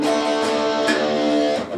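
An open low E (sixth) string on guitar is struck between chords of a riff, ringing with a sustained, rich tone up close before it is damped at the end.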